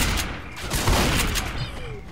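Dense, continuous volley of gunfire from a modded Left 4 Dead 2 match, a shotgun among the weapons, blasts overlapping with no gaps across the clip, loud and busy with game noise layered throughout.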